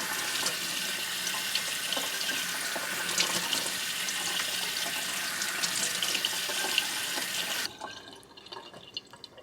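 Water runs steadily and splashes as it drains through the hole in the bottom of a pot holding lemon seedlings, a continuous close hiss that cuts off abruptly near the end, leaving faint drips.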